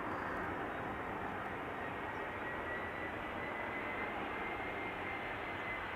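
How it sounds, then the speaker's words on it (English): A 15-year-old EasyJet Airbus A319 arriving from Milan over Schiphol's Polderbaan produces a steady, sustained jet roar with a hissing edge, heard alone without talk. "time for an A319 EasyJet arriving from Milan"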